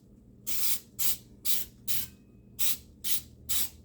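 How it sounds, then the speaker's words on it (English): Aerosol cooking spray coats a cake pan set over a towel, heard as seven short, sharp hissing bursts in an even rhythm, close and loud against a quiet room. "I don't like that using aerosol stuff"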